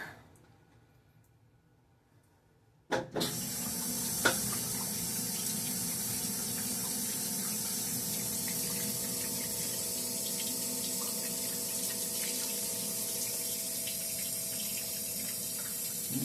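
A Whirlpool WTW4816FW3 top-load washer starts up suddenly after a quiet moment and runs its drain and spin cycle, a steady loud broadband rush of draining water and spinning drum that continues evenly to the end.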